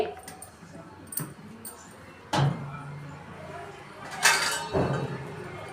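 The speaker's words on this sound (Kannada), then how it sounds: "ಇದಕ್ಕೊಂದು ಪ್ಲೇಟ್ ಮುಚ್ಚಿ" A plate set down over a chicken kebab mix in a home kitchen, a few soft clinks and knocks of crockery, the clearest around the middle and near the end, over quiet background.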